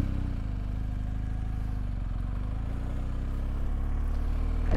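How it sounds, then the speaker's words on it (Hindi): A large BMW GS adventure motorcycle idles and rumbles at low revs while being turned slowly at full handlebar lock, a steady close engine drone with no voices. "मेरा हैंडल फुल लॉक है and I am slowly and gradually turning the bike"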